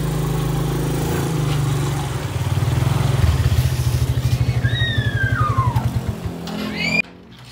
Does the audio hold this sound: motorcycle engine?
yes